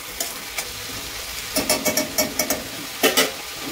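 A pan of radish and coconut stir-fry being stirred over a fast flame, a soft sizzle under a series of quick scraping strokes, a few sparse at first and then a rapid close run.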